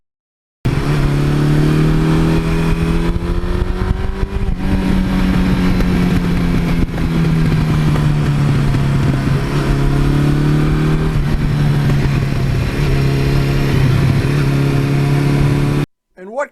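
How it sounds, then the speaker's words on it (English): A 1982 Suzuki GS1100E motorcycle is ridden hard through the gears, its engine note climbing and dropping repeatedly with each shift; loud, close and continuous, with only wind and road noise beneath. "once we get up in a riding area and you go through the gears a few times, you realize why this bike is an icon"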